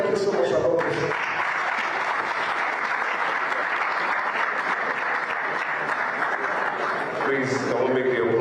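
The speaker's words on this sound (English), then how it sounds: "can we make the applause a bit louder?" Sustained audience applause at a ministerial press briefing with the interior and foreign ministers, steady dense clapping lasting several seconds, with a voice speaking briefly at the start and end.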